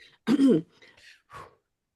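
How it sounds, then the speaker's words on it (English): A woman clears her throat once, a loud, close, gravelly rasp, followed by a couple of quieter breathy noises in an otherwise silent room. "So she will literally clear her throat like a mortal."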